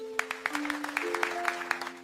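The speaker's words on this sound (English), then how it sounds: "Give yourself a big clap." Evenly spaced claps repeat in a quick, regular rhythm over soft sustained musical tones, like an applause effect in a children's drawing show.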